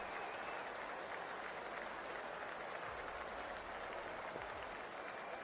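Stadium crowd at an India vs England T20 cricket match applauding before the first ball, a sustained wash of clapping and cheering heard from a distance at steady volume.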